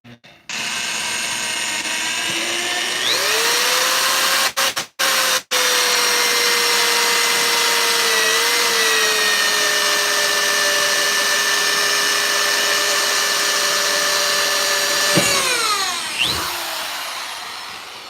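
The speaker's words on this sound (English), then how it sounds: "when you're drilling into metal, there's some metal or some incidents where you want to drill slow" A power drill whines at a steady high pitch for a long stretch while drilling into metal on a trailer, with a couple of brief stops, then winds down near the end.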